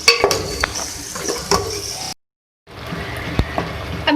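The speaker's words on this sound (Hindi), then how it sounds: "अब आपने इसको भूनना है अच्छे से मसाले में, आलू को टमाटर के साथ।" Potatoes sautéing with tomato and masala in a pan, with sporadic metallic scrapes and clinks of a spoon over a soft sizzle and a short silent gap midway; no one speaks.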